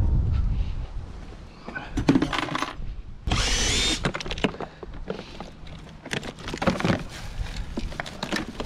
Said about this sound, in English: let me just get the drill